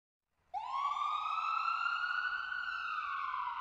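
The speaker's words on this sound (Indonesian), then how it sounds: "Brian, cepat telepon ambulan." Wailing ambulance siren from the Sakura School Simulator video game starts abruptly after a short silence and holds a loud, steady, rising-and-sustained electronic tone with no talk over it.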